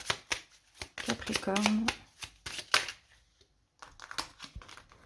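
A deck of tarot oracle cards is shuffled close by in quick, papery riffling bursts with short pauses between them, and a voice speaks briefly partway through.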